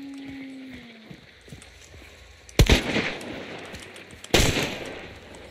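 Gunfire in the video game Hunt: Showdown, two sharp, loud shots about two seconds apart, each cracking out over quiet ambient background and trailing off in a short echoing tail.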